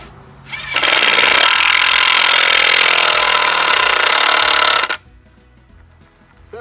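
A cordless impact driver drives screws through two stacked 2x4 boards, a loud continuous rattling hammer that runs steadily for about four seconds before cutting off abruptly, alone with no talk.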